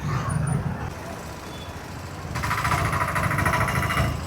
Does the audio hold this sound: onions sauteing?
no